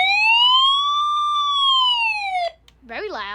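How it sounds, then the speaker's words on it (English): An EoxSmile CR1009 emergency alert radio sounds its SOS siren: a loud, close, rising and falling electronic wail that breaks off into a brief warbling tone. "Here's the SOS."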